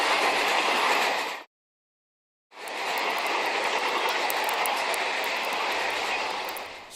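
A locomotive train rumbling steadily at close range, loud and broadband, with a short full silence partway through before the same continuous roar resumes.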